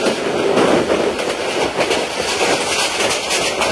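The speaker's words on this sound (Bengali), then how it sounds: "আখাউড়া অভিমুখী তিতাস কমিউটার ট্রেনটি আমাদেরকে থ্রু পাস করছে" Titas Commuter train passing a moving Mohanagar Godhuli Express on a Bangladesh rail line toward Akhaura: steady, close rumble and clatter of passing railcars with faint rhythmic wheel clicks throughout.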